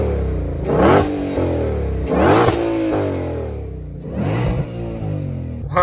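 A Shelby GT500 in track mode revs hard three times, each rise to a high whine falling back to a rumbling idle, loud and close.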